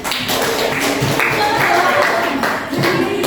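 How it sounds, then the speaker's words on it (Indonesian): Classroom applause for a student named Henry, a brisk burst of clapping and tapping from a group of pupils, fairly close and busy, with children's voices mixed in. "beri tepuk tangan untuk Henry"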